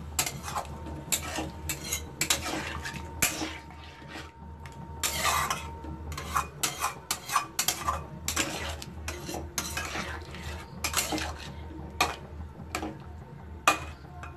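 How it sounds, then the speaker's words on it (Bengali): A metal spoon scrapes and clinks around a pot of Bengali-style dum aloo potato curry as water is mixed in, with irregular close clatters against the pot over a steady low background and no talking. "ভালোভাবে মিশিয়ে দেব।"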